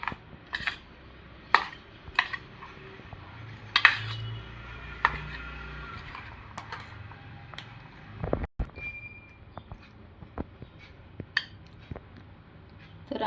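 A spoon works a spice mixture through a carrot pickle in a bowl, producing scattered clinks and scrapes of metal against the dish, with quiet gaps between the strokes and no voices.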